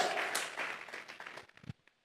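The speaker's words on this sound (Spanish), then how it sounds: "Vamos a regalarle ofrenda de palmas al Dios de la gloria." A church congregation claps as an offering of praise to God, a brief burst of applause that thins into scattered claps and stops.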